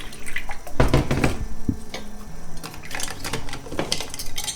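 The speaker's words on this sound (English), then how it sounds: "And just a quick stir." A spoon gives a glass of lemon water a quick stir, clinking against the sides in a short run of light taps, close and clear with no voices.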